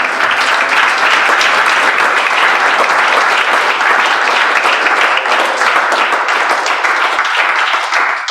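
A church congregation claps together in sustained, dense applause, loud and even throughout, with no voices standing out above it.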